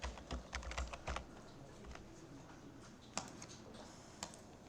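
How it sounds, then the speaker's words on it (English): Computer keyboard typing with scattered key clicks and a few sharper taps over a low background hum, moderately near and fairly faint, during a Grade 10 school programming task. "Click F12, double click the button, Control V to paste"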